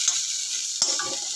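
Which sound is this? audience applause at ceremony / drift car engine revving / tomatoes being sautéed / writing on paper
tomatoes being sautéed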